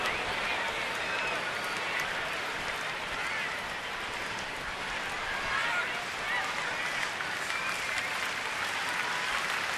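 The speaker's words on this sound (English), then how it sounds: "They're clapping in unison." Baseball crowd in a Padres at Nationals game applauding steadily as a dense, continuous wash of claps filling the whole stretch, with no clear rhythmic beat standing out.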